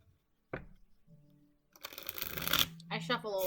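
Tarot cards shuffled by hand in a quiet room, a brief riffle early on, then a longer, louder run of dense papery flutter and clicks with a voice in the background.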